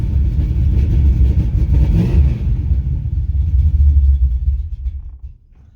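An 1986 Chevrolet C10 truck engine runs just after starting, a loud close low rumble with uneven surging revs that holds steady before dropping away sharply near the end as it cuts out.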